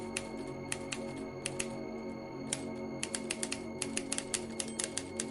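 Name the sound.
typewriter keys clicking, audio drama sound effect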